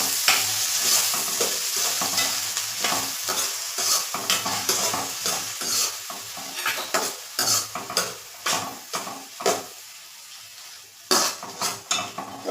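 Two onions being added and stirred into a frying Gujarati corn curry, a close sizzle broken by repeated clattering spoon scrapes against the pan that come in uneven bursts, with no talk.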